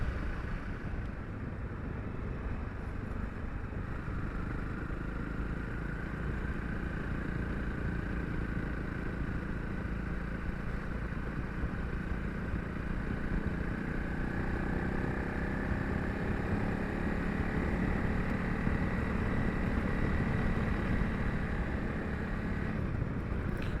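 A Honda CRF 300 Rally motorcycle rides along a dirt road, a continuous engine drone with wind rush, steady and close throughout with no talk.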